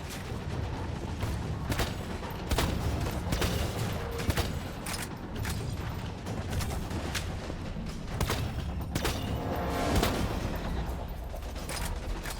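Turret gunfire in the video game Borderlands 2, a steady stream of sharp shots and bursts with booms and mechanical clatter at moderate level, continuing throughout with no talking.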